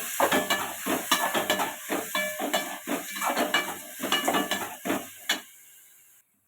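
Tomatoes sauté in a pan for beetroot chutney, with rhythmic spatula scraping and stirring over a frying sizzle, loud and close, ending in a quieter hiss.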